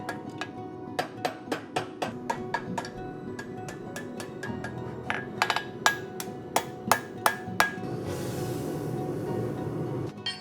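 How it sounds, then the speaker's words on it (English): A power hammer forges steel into a hoof pick in a blacksmith and farrier shop, striking about a dozen sharp, evenly spaced blows over a low machine hum, then giving way to a hissing rush at the end. "I'm going to do a drawing out of both ends under a power hammer"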